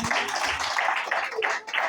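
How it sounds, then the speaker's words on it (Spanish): A church congregation claps in a quick, regular rhythm, a brief burst of rapid clapping at moderate loudness with a voice faintly underneath. "Dele ese aplauso al Señor."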